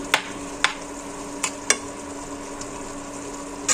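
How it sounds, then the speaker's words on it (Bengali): Minced meat fries quietly in a pan for biryani while a spoon stirs it, giving a few sharp scraping clicks against the pan over a soft, steady sizzle. "সে মাংসটা একটু ভাজতেছি।"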